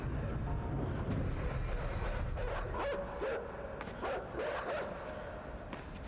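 Dogs bark and yip in the video game NASA 2021, several sharp barks and whimpers over a constant background rumble, moderately loud and close.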